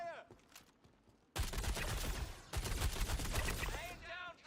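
Dense, sustained bursts of automatic gunfire from a Storm-A-Thon session of a video game, suppressing fire, loud and continuous for several seconds after a brief quieter stretch, with shouted callouts mixed in.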